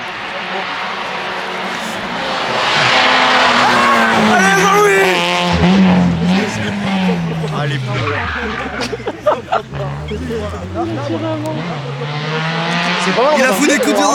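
A rally car roars past spectators standing on a straight section of a special stage, engine note rising and falling through gear changes as it approaches and recedes, loud and close, with onlookers talking over it.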